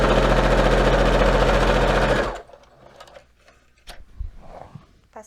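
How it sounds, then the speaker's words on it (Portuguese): A sewing machine runs steadily and loudly for about two seconds while stitching a small polo shirt for a boy doll, then stops, leaving quiet handling noises and faint movement. "Passei uma costurinha."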